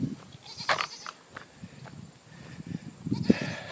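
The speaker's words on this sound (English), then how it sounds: "now we're gonna meet the goats." Goats at a farm beside a driveway, bleating in several short calls scattered over outdoor background noise, moderately close.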